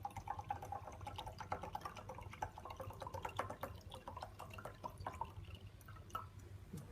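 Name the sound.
pouring deionized water into beaker to dilute mixture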